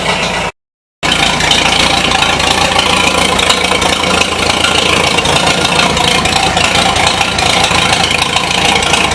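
A 1953 Super H tractor engine idling after carburetor adjustment, a steady loud continuous rumble with a slight rough, knocking edge and rattle, broken by a brief dropout near the start, with no talking.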